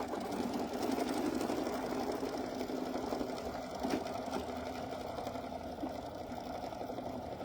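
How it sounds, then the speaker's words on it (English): Sewing machine running steadily through a satin stitch around a mushroom appliqué on a quilt block, a continuous close whirring hum with no talk. "we're going to do the satin stitch that's going to go around the mushroom"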